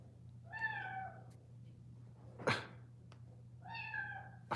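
A male cat meows twice indoors, each a clear drawn-out call, with a sharp knock between them over a faint steady low hum. No one speaks.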